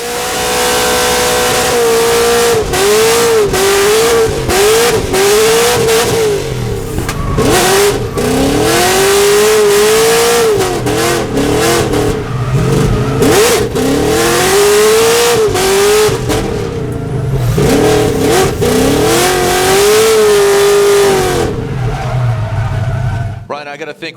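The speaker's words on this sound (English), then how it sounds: "Now coming into that final outside zone, and Stuke filling all of it in that M-Spec S chassis." Drift race cars at a Formula Drift event in Irwindale rev hard and slide, engines wailing up and down in repeated surges with tire squeal, loud and close, under continuous excited commentary.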